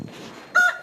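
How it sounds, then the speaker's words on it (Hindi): A rooster gives a brief, bright crow that starts abruptly after a soft rustle, close and loud but cut short in under a second. "मुर्गा"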